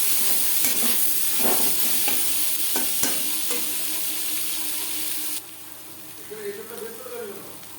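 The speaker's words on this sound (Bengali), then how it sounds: "তিন চার মিনিট পেঁয়াজ ভেজে নেওয়ার পর" Onions fry in a pan for a Bengali prawn malai curry, giving a steady, close hiss with scraping stirs that drops sharply in level partway through, followed by a softer sizzle.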